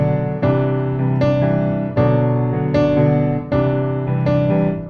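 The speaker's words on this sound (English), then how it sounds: "Then the piano would sound like this." A digital piano routed through Loopback plays sustained chords, with a fresh chord struck about every three-quarters of a second. The sound is full and ringing, with no talking over it.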